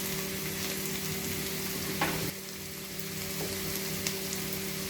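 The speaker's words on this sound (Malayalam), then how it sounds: "കുറച്ച് കറിവേപ്പില നമുക്ക് ഇട്ട് കൊടുക്കാം." Slit green chillies and curry leaves sizzling in oil in a pan, a steady close frying hiss with a brief spatter burst and a short stir partway through, no talking.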